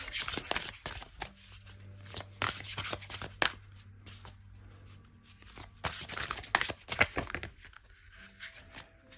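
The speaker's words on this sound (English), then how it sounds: "They shuffle well overhand." Stiff oracle cards are shuffled overhand in quick, papery bursts, pausing between rounds, close and fairly quiet with no talking.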